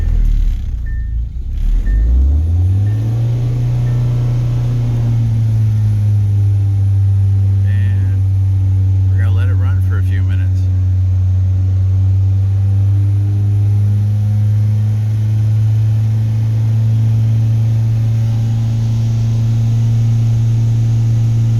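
A 2016 Hyundai Veloster DCT Turbo, cold after sitting for an hour during a CRC engine treatment, cranks and catches, then settles into a steady, close, loud idle hum with slight rev changes.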